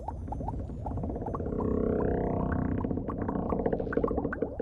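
A long, drawn-out gurgling rumble in a bedtime cartoon, swelling and wavering like a sleepy tummy noise, heard on its own at a soft, close level without speech.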